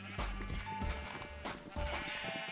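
Sheep in the Minecraft video game bleat several times in quick succession over a faint, busy game background, fairly quiet overall.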